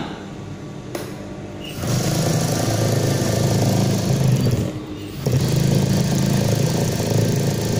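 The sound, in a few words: motorcycle engine started and running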